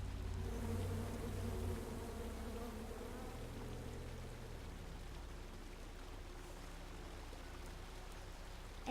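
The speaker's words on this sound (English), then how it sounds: "Come at me, bees!" Angry bees from the video game King's Quest swarm in a dense, continuous buzz, loud and close at first, then easing slightly and holding steady with a rain-like hiss, with no talking over it.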